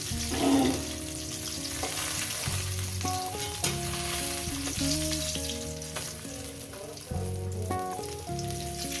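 Bhola fish frying in hot oil in a home kitchen, a steady close sizzle running throughout with a melodic tune playing over it.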